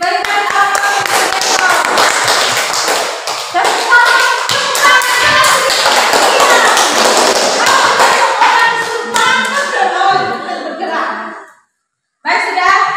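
Applause from a classroom audience during an academic coaching session, a dense, sustained patter of many hands clapping loudly for about ten seconds before stopping abruptly, then a brief renewed burst.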